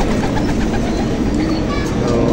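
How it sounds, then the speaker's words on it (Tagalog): Pigeons coo softly amid a busy, noisy background, with low murmuring tones over a brief stretch. "So ayan na yung mga ibon natin."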